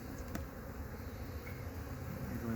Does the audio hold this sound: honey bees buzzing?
yes